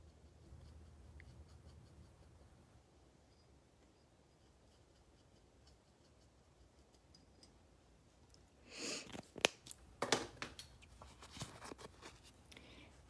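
Black enamel marker coloring a stamped metal scene pendant, faint soft scratchy strokes for several seconds, then a short cluster of louder, sharper scraping and rubbing bursts near the end.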